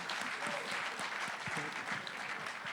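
Audience applause at a live talk event, a steady wash of clapping hands that fills the whole stretch evenly without breaks or speech.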